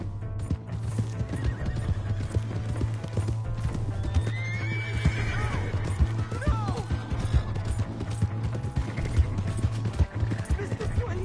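A horse in the video game Red Dead Redemption 2 gallops with steady rapid hoofbeats and lets out a sharp whinny midway, over a low droning score, while characters shout and talk throughout.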